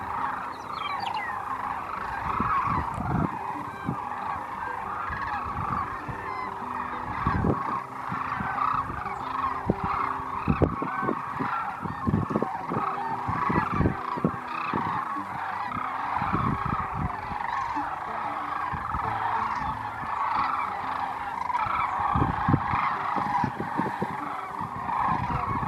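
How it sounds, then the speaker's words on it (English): Sandhill cranes call from fields where they gather before flying to roost, a dense chorus of rattling, bugling calls that overlaps continuously with sharp bursts standing out, moderately near and without talk. "the Sandhill cranes will stage right there in the fields right before they fly to find their roosting spots at night"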